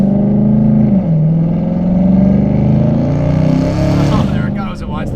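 A supercharged Dodge Challenger Redeye accelerating hard, its loud exhaust roaring in a rising drone with a brief dip like a gear change, heard from inside the car with a voice speaking over it.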